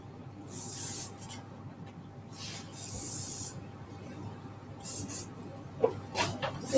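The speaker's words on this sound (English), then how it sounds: "you put a little bit of hairspray through as well" Hairspray is sprayed onto long hair during a hairdressing seminar. Several short, close hissing bursts are separated by quiet gaps over faint room noise.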